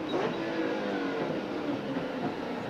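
Ford Falcon V8 touring car racing at Mallala in the 1997 Australian Touring Car Championship, a steady engine roar at speed heard throughout with a broad, constant drone and no voices.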